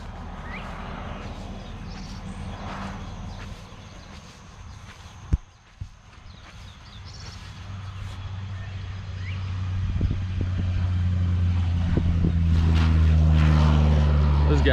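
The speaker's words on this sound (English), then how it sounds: "Get a good shot of this airplane coming right over us." A crop-spraying propeller plane drones steadily, its engine roar swelling louder toward the end as it approaches overhead, with a couple of sharp clicks midway.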